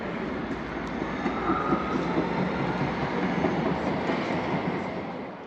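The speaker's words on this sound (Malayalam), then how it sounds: "ഇതാണ് ബ്രെമനിലെ റെയിൽവേ സ്റ്റേഷനാണ് ഈ കാണുന്നത്." Trains at Bremen railway station in Germany, a continuous moderate rumble of rolling rail cars with faint clickety-clack and occasional metallic squeals, with no talk.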